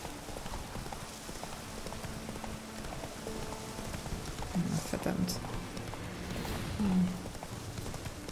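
A horse's hooves clip-clop at a steady riding pace in The Witcher 3: Wild Hunt, a continuous rhythmic trot with someone talking over it and a few sharper clanks midway.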